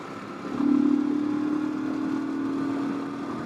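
A Royal Enfield Himalayan motorcycle fitted with an aftermarket camshaft, its engine pulling steadily in fourth gear, a fairly loud and close droning hum that swells after a moment and holds for a few seconds with no voices.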